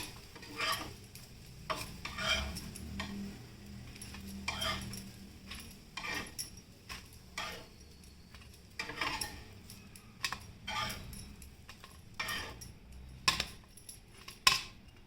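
Fried eggplant slices lifted from a pan onto a plate, heard as scattered light clinks and scrapes of utensil on dishware, fairly soft and irregular, with no talking.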